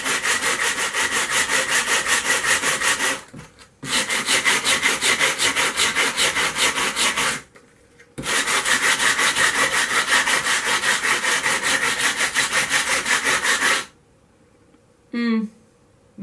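A plastic scrubbing brush rubs hard across stained glass in long, loud, raspy back-and-forth strokes, three sustained bursts broken by short pauses, followed by a brief exclamation.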